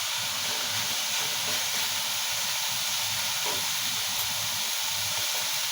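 An LP gas cylinder stove burns steadily while greens cook, giving a constant, loud, broadband hiss with a faint low rumble and no breaks or speech.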